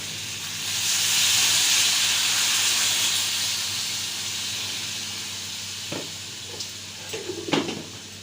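Water poured into a hot pan while cooking shorshe ilish gives a loud steamy hiss that swells, then gradually fades, followed by a few soft clinks of utensils.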